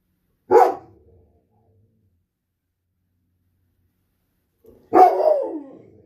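Neighborhood dogs bark twice, each a short sharp woof separated by several seconds of silence, the second bark slightly longer with a trailing yelp, heard alone with no talk.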